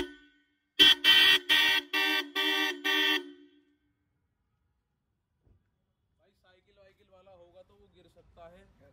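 A loud, musical multi-tone aftermarket car horn on a modified Mahindra Scorpio N blasts six short rhythmic honks in quick succession, then silence with faint distant sounds.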